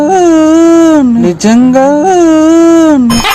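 A dog howls loudly and close by in long, wavering tones, breaking briefly once before howling again.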